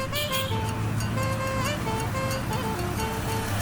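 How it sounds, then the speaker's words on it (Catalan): City road traffic in West Africa heard from the back seat of a moving car, a constant engine and road rumble with passing vehicles and a melodic tonal sound drifting over the noise. "observo i escolto la circulació, trànsit i soroll de grans ciutats i perifèries"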